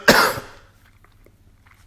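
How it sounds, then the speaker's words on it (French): A single loud, close cough, followed by near silence with faint small noises. "vous inquiétez pas si je tousse encore un petit peu"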